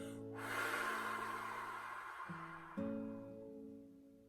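A long, slow breath out through the mouth during a guided breathing exercise, a soft airy exhale heard close over gentle sustained background music.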